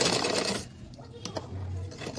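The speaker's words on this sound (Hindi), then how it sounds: "यहाँ पर मैं लगा दूंगी सिलाई।" A sewing machine stitches fabric for a flared balloon-style top, its steady motor whir loud at first and then dropping to a softer hum with small clicks.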